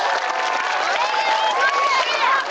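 An audience applauds a saxophonist at a jump-jive school concert in Las Vegas, a dense, continuous spread of clapping with cheering and whoops over it, steady and fairly loud throughout.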